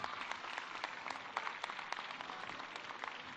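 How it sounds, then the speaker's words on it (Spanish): Audience applause greeting Carlos Torres, coordinator of welfare programs, at a Benito Juárez scholarship event in Querétaro: a steady wash of many hands clapping, dense and continuous with sharper individual claps poking through, fairly distant and moderate in level. "Recibimos con un fuerte aplauso a Carlos Torres, coordinador de los programas para el bienestar."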